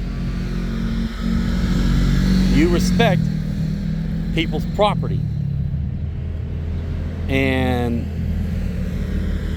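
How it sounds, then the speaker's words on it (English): Side-by-side off-road vehicles on the Hatfield-McCoy Trail rumble past in a low, steady engine drone with a few revving swells. Someone talks over the noise throughout. "A bunch of side-by-sides went by because the Hatfield-McCoy Trail is here now"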